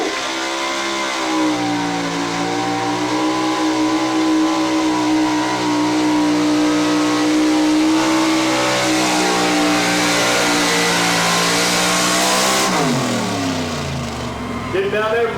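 A Chevy pro-street truck's engine revs hard and loud through a drag race run in Lawrence, Kansas, a sustained roar with rising pitch that drops sharply near the end, as an announcer talks over it.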